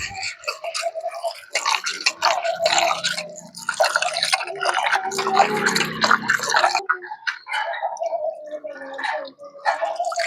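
Flattened rice (poha) being rinsed in water close up, with steady wet sloshing and swishing that comes in uneven bursts and runs almost without a break.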